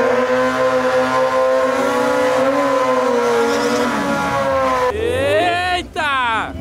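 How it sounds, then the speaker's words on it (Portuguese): Loud high-revving Suzuki Hayabusa motorcycle engines scream continuously in a race, pitch climbing and shifting as the bikes accelerate hard, with brief voices under the roar. "Agora quero ver o racha de Hayabusa."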